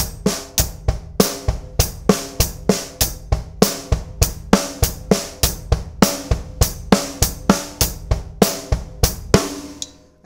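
Rock-metal drum beat played on a kit, with kick, snare and hi-hat in a steady looping pattern, loud and close with evenly spaced hits and no talking.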